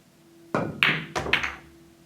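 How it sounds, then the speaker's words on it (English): Pool cue striking the cue ball into an object ball, played with no side spin; a close sharp tip knock, then a louder clack of ball on ball, and a further solid clack a moment later, with no talking. "Here's the shot with no side spin."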